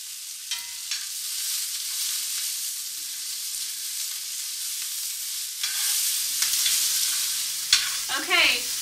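Red and white onions sautéing with garlic in a pan, giving a continuous close sizzle with occasional utensil scrapes and clinks, no voices.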